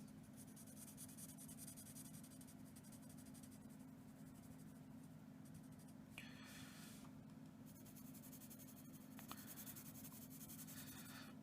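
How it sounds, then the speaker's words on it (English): A pencil rubs back and forth on paper to shade a drawing solid black, a soft continuous scratchy hiss under a steady low hum, close and fairly quiet. "So I'm just blackening it with the pencil."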